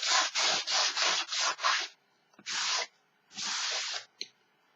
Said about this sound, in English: Just give it a quick clean with your putty rubber.